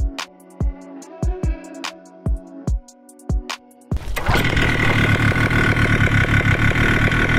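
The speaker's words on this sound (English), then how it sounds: "let's have a sound of a good tuned engine again" A Vittorazi Moster 185 paramotor, carburetor well tuned, sounds a series of sharp knocking pulls before catching, then runs at a loud, steady, buzzing idle close by without any talk.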